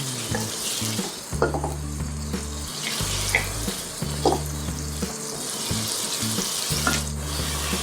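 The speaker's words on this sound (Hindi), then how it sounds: "अब इसको हम हल्का गुलाबी होने तक फ्राई करेंगे।" Chopped onions frying in a kadai over steady heat: a constant hissing sizzle with occasional spatula knocks and scrapes, a low hum in the background, close by and without talk.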